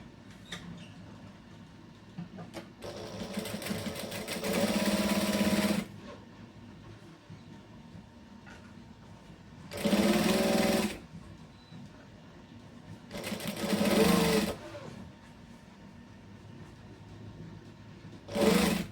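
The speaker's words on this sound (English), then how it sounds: "I'm going to top stitch this." Sewing machine top stitching a camera bag, three separate runs of fast mechanical whirring with quieter handling and rustling between them, close by and without speech.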